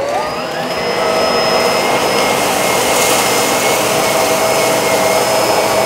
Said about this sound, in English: let's try the SurfaceSense on this carpet